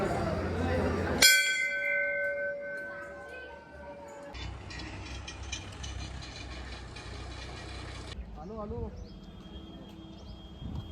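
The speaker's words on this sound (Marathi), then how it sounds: "घंटा नाद करूया." A temple bell rings with one sharp metallic strike whose bright tone decays over a few seconds, followed by a background of traffic hum and other outdoor noise with voices around.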